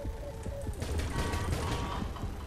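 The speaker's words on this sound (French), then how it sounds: "Oh, ma tourelle, elle a killé 2 requins." A turret in the underwater shark game Depth fires a rapid, dense burst of gunfire that runs continuously and loudly throughout, with mechanical clatter mixed in.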